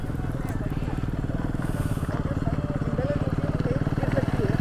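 A Royal Enfield Himalayan 452 motorcycle climbs an off-road trail, its engine chugging in a steady, moderately loud pulse with crunching from the ground under the tires, with no voice over it.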